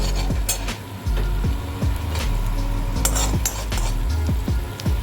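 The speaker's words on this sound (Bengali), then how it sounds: "বাটার আর গার্লিক এটাকেই সতে করবো।" Butter and garlic sautéing in a pan for tomato soup, a continuous loud sizzle broken by repeated scraping and knocking strokes of a utensil stirring against the pan.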